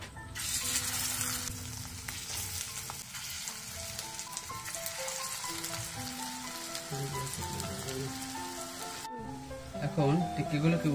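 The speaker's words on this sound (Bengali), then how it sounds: "এখন বাকি টিক্কাগুলোকেও তেলের ভিতরে দিয়ে দেব।" Beef tripe tikka fries in hot oil with a dense, continuous crackling sizzle under soft background music, cutting off abruptly near the end before resuming.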